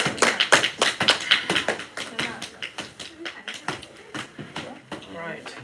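A small group claps hands for a speaker in a classroom-style oral presentation, producing a burst of sharp, uneven claps that thins out over several seconds, with talk mixed in.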